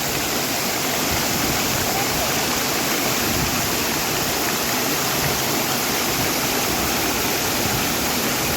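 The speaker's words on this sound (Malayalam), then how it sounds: "ഈ മരത്തിൻ്റെ ചോട്ടിൽ കൂടി ഈ വെള്ളം ഇങ്ങനെ ഒഴുകി പോകുന്നതുകൊണ്ടായിരിക്കട്ടെ ഇതിനെ മരച്ചോട് വെള്ളച്ചാട്ടം എന്ന് പറയുന്നത്" Marachod waterfall roars in a dense, constant rush as water pours and flows beneath a tree, loud and unbroken throughout with no voices.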